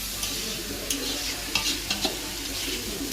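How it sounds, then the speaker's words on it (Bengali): Clams stir-fried with fried potato pieces and red spices in a wok sizzle steadily, with soft scraping stirs and occasional clinks of the utensil, close and alone. "আলুটাও চলে যাবে, দিয়ে ভালো করে কষিয়ে"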